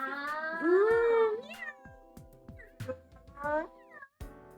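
A cat meows several times, a long drawn-out cry near the start followed by shorter meows, close by in a quiet room with faint talk between.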